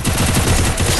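Rapid bursts of gunfire crackle continuously, loud and dense, like automatic weapons firing in a Free Fire battle.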